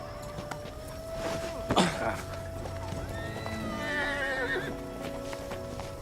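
A horse whinnies loudly in a rising-falling call amid hoof clops and background noise, with a voice briefly present in a Bollywood action film scene.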